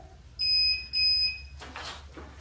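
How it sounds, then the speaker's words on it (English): Two sharp electronic beeps, each about half a second long, ring out close by in a quiet room, followed by a brief rustling shuffle. "Sorry about the beeping"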